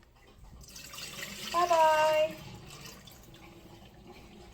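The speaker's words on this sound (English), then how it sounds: "And now I'm going to discard this water." Water poured off fermented chicken feed splashes and trickles for a couple of seconds, fairly loud and close indoors. A voice speaks briefly over it.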